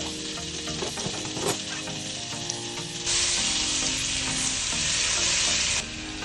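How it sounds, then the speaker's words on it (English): Olive oil and butter heat in a heavy Dutch oven over medium-high heat, sizzling steadily up close before a brighter, louder hiss takes over midway. "Heat olive oil and butter in a heavy pot or Dutch oven over medium-high heat."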